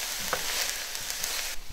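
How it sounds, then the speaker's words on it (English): Onion and minced garlic sautéing in olive oil in a pan, a continuous bright sizzle with a couple of soft stirring scrapes, close and alone. "So what you want to do is saute up the garlic and onion until the onion is translucent."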